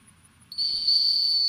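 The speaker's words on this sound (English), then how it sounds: "One more whistle should do it on the blind." A single steady, high-pitched dog-handling whistle at a retriever field trial starts abruptly and holds loud and unwavering, with faint low rumble underneath.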